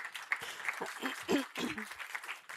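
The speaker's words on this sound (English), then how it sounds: "you can applaud Rita one more time because she's standing here on stage smiling for you" An audience at a conference applauds, steady clapping at moderate volume with a few louder swells and some murmuring voices mixed in.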